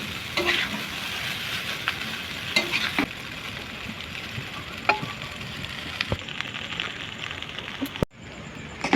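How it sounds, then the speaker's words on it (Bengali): Egg chowmein noodles are stir-fried with vegetables over low heat, a low sizzle under repeated scraping and clanking strokes of a spatula against the pan, with occasional louder knocks. "এইভাবে সবজিটার সঙ্গে চাউমিনটাকে মিশিয়ে দেব"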